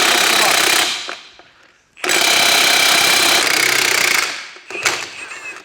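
A Milwaukee power tool hammers loose a large central gearbox nut on a barn-find Porsche 356, sounding as loud, rapid rattling bursts close by, with two long runs broken by short pauses and a shorter final burst.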